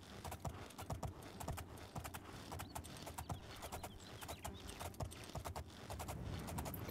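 Horse hooves in the video game Oblivion, climbing a mountain: a steady, rhythmic clip-clop of hoofbeats, close and distinct, continuing throughout over a quiet background.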